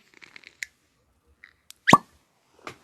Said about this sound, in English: it wasn't the loudest cork pop ever